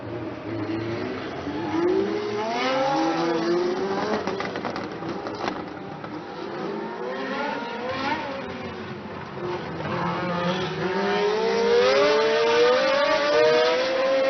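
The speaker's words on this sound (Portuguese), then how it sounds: "Começou uma confusão de carros entrando e saindo dos boxes" Formula 1 race cars in the 1975 Monaco Grand Prix, with cars going in and out of the pits, a continuous engine drone whose pitch rises and falls as several cars pass, steady and moderately loud.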